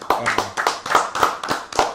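Trivia-night players clap together in a short round of applause after a round ends, about seven distinct bursts of hand claps across two seconds, close and fairly loud.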